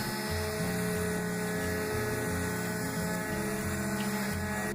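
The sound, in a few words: sanding wood by machine in a bus bathroom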